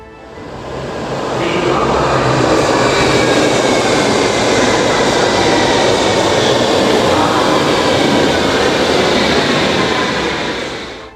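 A Berlin U-Bahn train at Museumsinsel station builds quickly to a loud, sustained rushing roar of wheels and carriages that fills the platform, then begins to ease off near the end.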